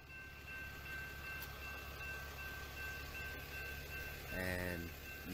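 A freight train of tank cars rolls past, a steady low rumble of wheels on rails with a brief horn-like tone near the end, as people talk over it.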